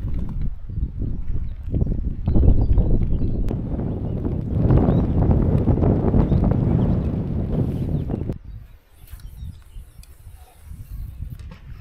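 Gusty wind buffets the microphone with a rough, roaring rush for several seconds, then drops away to a calmer, quieter breeze, beside the flooded Meuse river amid mixed rain and sun.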